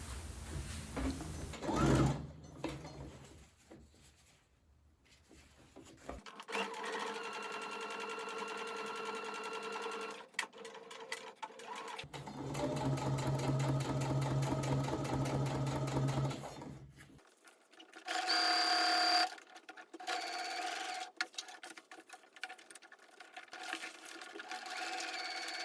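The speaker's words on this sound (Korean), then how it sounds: "안감의 창구멍을 끝박음질로 막아주고 합봉한 부분을 상침으로 마무리해줄게요" A home sewing machine stitches a shoulder bag, closing the lining's turning gap and topstitching the seams. Bursts of rapid, close mechanical clatter alternate with brief pauses and quiet handling, with no talking.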